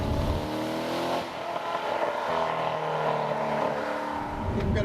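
A 2014 Chevrolet Corvette Stingray Z51 engine pulls hard on a road, its revs climbing through the gears with a short dip at a shift, loud and close from inside the car.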